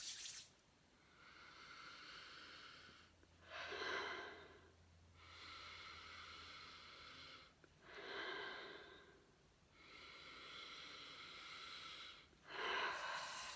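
Three or four long, deep breaths in a calm essential-oil cleansing setting, each swelling into a broad airy hiss that fades into quiet pauses, close and fairly soft.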